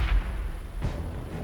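A grenade explodes in a Warhammer 40,000 battle between Blood Angels and Tyranids, one deep thudding blast followed by a second, softer boom.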